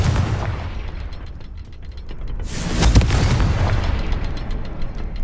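A Confringo fire spell from Hogwarts Legacy bursts with a loud booming explosion midway, its rumbling blast swelling over a dense layer of game combat noise and fading into a crackling tail.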